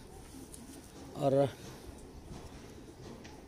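A breeder pair of pigeons gives one short, soft coo, with a quiet room and a man's speech around it.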